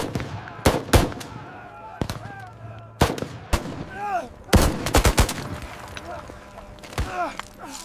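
German machine guns fire from above onto a fiercely defended mountain slope in a WWII battle. Sharp, scattered shots and short bursts break out repeatedly, with voices heard between the blasts.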